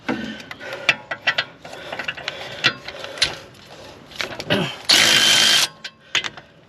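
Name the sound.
ratchet clicking while loosening brake caliper bolt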